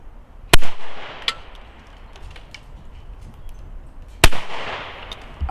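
A Browning Maxus II semi-automatic shotgun fires Express Supreme cartridges at clay targets outdoors, two loud sharp shots about four seconds apart, each followed by a short rolling echo, with quiet ambient noise between and no talk.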